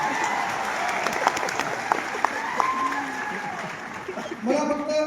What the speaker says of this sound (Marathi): मग जोरदार टाळ्या होत्या